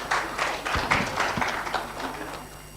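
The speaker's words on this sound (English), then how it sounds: "A round of applause for him." Audience applause at a stakeholder conference session, a short burst of clapping from a seated crowd, moderately loud with dense broadband claps over a room hum.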